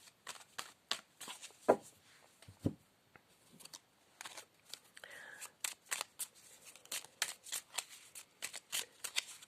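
A deck of playing cards is shuffled over and over in quick, uneven bursts of crisp snapping and riffling, with a few heavier thumps. A person talks intermittently underneath.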